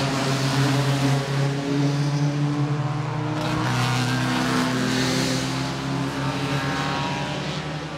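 A blue Triumph GT6 sports car roars past during a vintage production sports car race for cars under 2.0 litres, its engine drone loud and sustained before easing slightly as it moves away.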